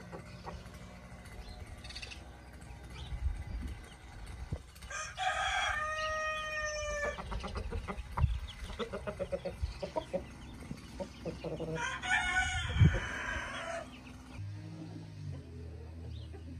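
A rooster crows loudly a couple of times, calling hens, with clucking and scratching sounds in between, close by outdoors.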